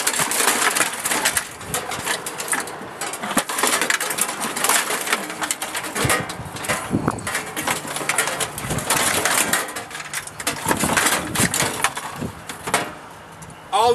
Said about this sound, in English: you cut the copper lines